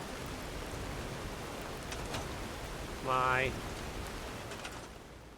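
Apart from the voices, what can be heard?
rain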